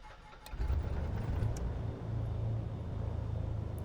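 The left engine of a Milviz Cessna C310R cranks and catches in MSFS, rising into a steady, fairly loud mid-pitched engine drone that holds evenly for several seconds with no talking.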